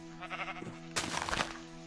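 Sheep in Minecraft give a couple of quiet bleats in quick succession, the second louder and more nasal, faint against a low steady background.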